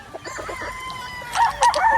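Young Early Bird gamefowl chicks and pullets clucking, a short burst of close, chattering clucks followed by a couple of louder, higher calls near the end.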